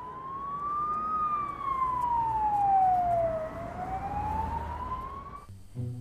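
A toy ambulance's wailing siren slides up and down in pitch, steady and fairly close, with faint mechanical whirring beneath it and a click at the end.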